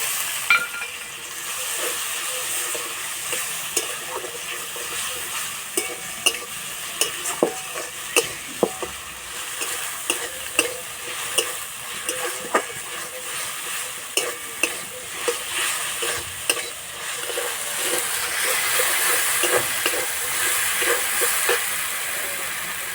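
Chopped tomato and ginger-garlic paste sizzle steadily in hot oil for a jackfruit curry, with repeated scraping clicks of a spoon stirring the pan close up and no talking.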